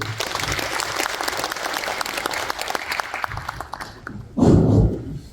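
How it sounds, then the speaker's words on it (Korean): Audience applause welcoming a speaker at a residents' redevelopment briefing, sustained clapping from a seated crowd that fades toward the end, followed by a brief louder rustling thump. "박수로 환영해 주십시오"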